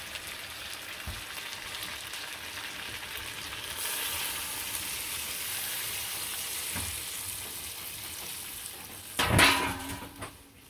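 Broth poured into a pan of chicken curry that had been frying with spices, giving a steady sizzle that swells as the liquid hits, then a loud clatter and burst of bubbling near the end.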